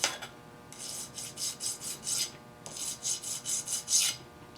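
A metal governor weight arm being deburred with a file in two bursts of quick, rhythmic rasping strokes, around five strokes each, close and crisp, with a brief pause between sets.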